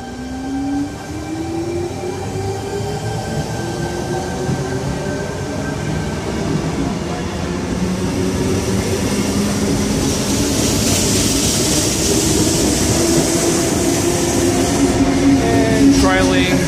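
A Sydney T65 electric train with Waratah gangways departing Oatley station, a loud close rumble with rising motor whine and wheel squeal building as it pulls away, a person speaking over it.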